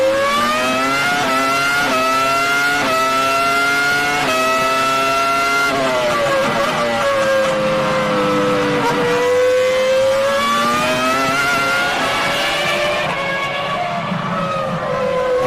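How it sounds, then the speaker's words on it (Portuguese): Rubens Barrichello's Ferrari Formula 1 car at the Austrian Grand Prix, heard onboard, screams loudly as it accelerates hard through rising gear changes. The engine pitch sweeps up and dips between shifts, steady and dominant throughout. "Vamos de carona no carro do Rubinho. Capricha, acelera, pisa fundo, Rubinho."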